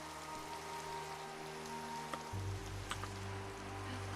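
Steady rain patters across Minecraft terrain in a continuous even hiss with a low ambient hum underneath, a few faint drops and ticks standing out, with no voices.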